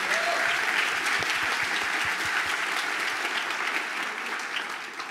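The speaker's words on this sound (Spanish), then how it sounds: "Un aplauso," A crowd applauds steadily, dense clapping that holds strong for several seconds and then gradually thins and fades toward the end.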